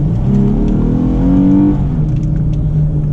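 Car engine revving up through an acceleration test after a cleaning fix for lost power, a loud rising drone that climbs in pitch, peaks, then settles back, heard close with no talk.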